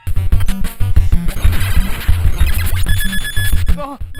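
A low-energy warning alarm beeps insistently in a Ninja Turtles video game, repeating over a busy, loud mix of game music and effects.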